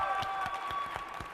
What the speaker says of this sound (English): Give them a big round of applause, too.